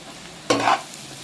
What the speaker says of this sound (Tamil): சோம்பு பொறிஞ்சிடுச்சு வெங்காயம் போட்டுடலாம் நல்லா வதக்கிக்கலாம் கருவேப்பிலை போட்டுடலாம்